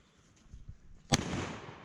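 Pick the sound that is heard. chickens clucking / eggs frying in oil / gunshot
gunshot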